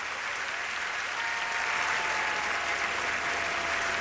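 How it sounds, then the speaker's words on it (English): A National Stadium crowd gives a standing ovation at the National Day Parade, a dense, continuous wash of applause and cheering that holds steady and loud throughout. "The National Stadium here still giving the Prime Minister a rousing standing ovation"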